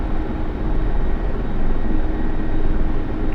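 Mi-24 Hind helicopter in the DCS flight simulator, a steady loud turbine and rotor drone holding level throughout with no talk over it.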